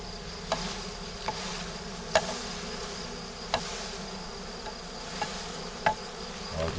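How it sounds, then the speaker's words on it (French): Honey bee swarm buzzing steadily close up while being gently swept with a brush, with several soft tapping knocks scattered throughout. "C'est pas de la poussière qu'on balaye, c'est des abeilles."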